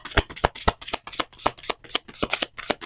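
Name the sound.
shuffling Rider-Waite holographic tarot cards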